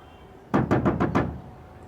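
Five quick, loud knocks on a door in a Bollywood movie scene, evenly spaced and close, with quiet before and after.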